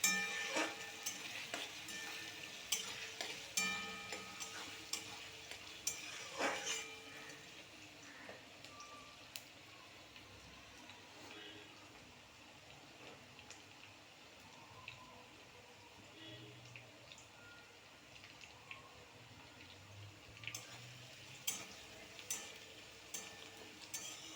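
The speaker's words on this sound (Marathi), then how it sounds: "कांदा चांगला ट्रान्सपरंट होईपर्यंत परतायचा" Onion sautéing in a pan for misal, a soft sizzle with intermittent stirring and scraping, louder early on and then quieter, close and fairly faint.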